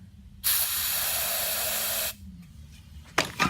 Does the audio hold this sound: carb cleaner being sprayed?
yes